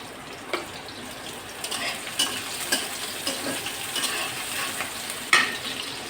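Small tangra fish with chillies fry in a pan for a spicy home-style curry, a steady soft sizzle with scattered crackles and pops, close and unaccompanied by talk.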